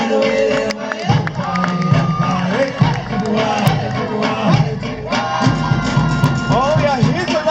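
A crowd at the Paradise Cove luau cheers and whoops steadily and loudly throughout, with a voice shouting encouragement over the noise.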